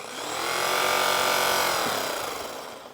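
A bench grinder with a buffing wheel and rouge polishes an aluminum baseball bat, its close, loud motor whine swelling and easing steadily with no talk.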